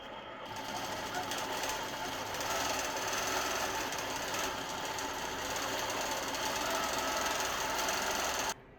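Innova long arm quilting machine stitching a pantograph pattern across a quilt, a steady, loud, fast mechanical whir and rapid needle chatter running continuously, then cutting off abruptly at the end.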